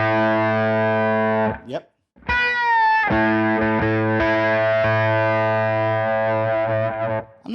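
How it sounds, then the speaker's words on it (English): Electric guitar with an odd octave fuzz tone plays sustained, buzzy distorted notes and short bends, cutting out briefly near the start before ringing on loudly; a voice says one short word. "I'm not sure what fuzz he's using. It's a very strange guitar tone."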